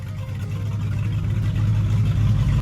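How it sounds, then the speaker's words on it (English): A 1970s classic car with open headers, a 2500 stall converter and Cragar wheels rumbles steadily while driving, a loud, close, continuous low engine drone with no talking. "sound coming out of them open headers is downright glorious."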